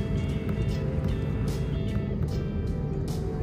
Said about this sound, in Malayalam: ഇപ്പോൾ ഫ്ലൈറ്റ് മൂവ് ആയിക്കൊണ്ടിരിക്കുകയാണ്.